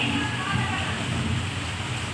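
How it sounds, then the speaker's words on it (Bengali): Heavy rain pours down in a steady, dense, unbroken hiss that stays loud and close throughout, with faint voices in the background. "বিভৎস বৃষ্টি হচ্ছে বিভৎস এই দেখো বুঝতে পারছো"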